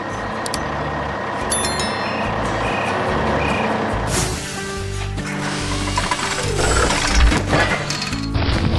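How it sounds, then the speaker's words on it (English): An animated dump truck rolls in under a dense mechanical din of engine, clanking gears and ratcheting parts, with reversing beeps and an air-brake hiss as it backs up to the final stop; loud and close throughout. "The truck arrives at its final stop."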